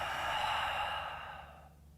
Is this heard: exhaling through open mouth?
yes